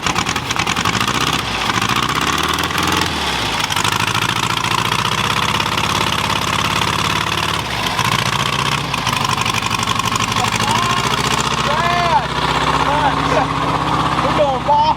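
A 1968 Volkswagen Beetle engine runs loud and close for the whole stretch with no accelerator pump working, its rough air-cooled drone rising and falling as the throttle is blipped, with voices talking over it.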